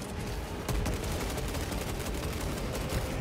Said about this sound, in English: They're shooting through the boxes.